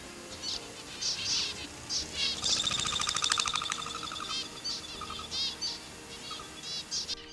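Plumhead finches give soft, high chirping calls in scattered short phrases, with a brief busier twittering passage in the middle, fairly faint and without voices.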